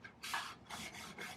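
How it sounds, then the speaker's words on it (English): A cloth wipes excess oil stain off a wooden surface in three soft, quiet rubbing strokes, with brief pauses between them. "And then with the cloth just wiping away the excess."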